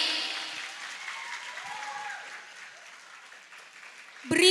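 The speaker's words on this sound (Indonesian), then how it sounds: "Beri tepuk tangan yang meriah untuk karya yang penuh makna dan luar biasa ini." Applause from an audience at a haul commemoration gathering, fairly soft and steady for several seconds, slowly thinning before a louder burst of sound at the very end.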